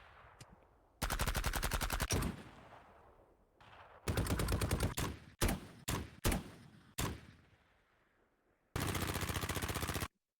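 Designed gunshot sound effects: bursts of rapid automatic fire alternating with heavy single booms and decaying tails, loud and close with short gaps between shots.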